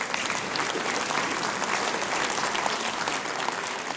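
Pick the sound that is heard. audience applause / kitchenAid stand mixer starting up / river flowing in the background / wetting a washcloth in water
audience applause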